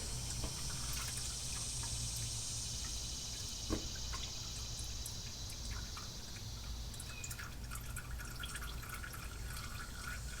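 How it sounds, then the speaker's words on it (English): Engine oil from a 2.0T Alfa Romeo Giulia or Stelvio drips into a drain pan with soft, steady patters and a faint trickle, over a low hum of background noise. "Let it kind of drip out some."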